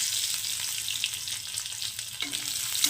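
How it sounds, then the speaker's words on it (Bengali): Crushed garlic fries in a pan with black cumin seeds, a steady, close, hissing sizzle with a faint stir near the end. "রসুনটাকে একদম লাল লাল করে ভেজে নেবো"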